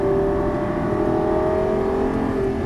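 A Lamborghini Gallardo LP550 accelerating out of a turn on a racing course, its engine a steady loud close drone with a sustained pitched note throughout.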